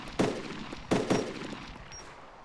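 A gunfire exchange in ARMA 2: DayZ Epoch against a pinned-down camper at long range: a single crack, then a quick pair of loud shots, each trailing off in a rolling echo over quiet ambience.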